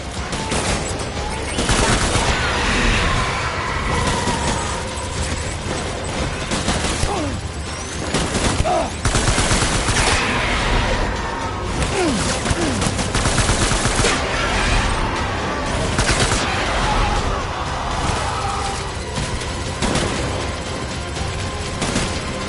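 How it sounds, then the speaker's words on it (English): Gunfire in the video game Death Stranding: dense, loud bursts of automatic fire and single shots keep going almost without pause, with booms and mechanical rattles mixed in and brief voices underneath. "Open fire."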